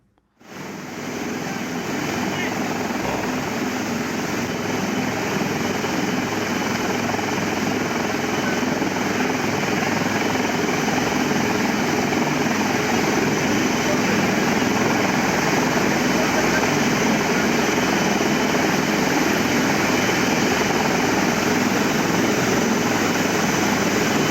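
Helicopter during an airlift rescue at Soochippara waterfall: a steady, loud rotor and engine roar fills the whole stretch without a break, close and continuous.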